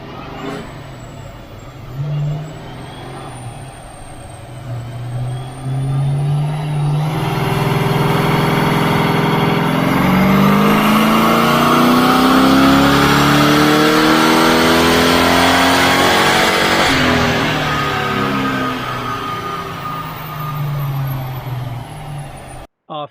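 A Holden 355 stroker V8 on a dyno climbs from idle into a long, loud rev that sweeps upward and holds for several seconds, then drops back down.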